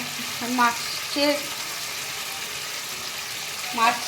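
Rui fish curry simmers in a pan on a gas stove, giving a steady, close bubbling hiss throughout. A voice speaks briefly over it a few times.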